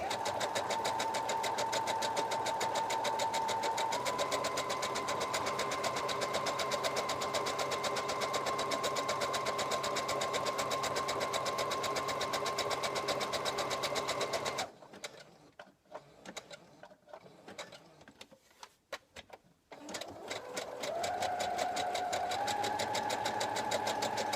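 A sewing machine stitches along a fabric edge with a steady, close mechanical whir. It stops for a few seconds partway through, then starts again for a short final run.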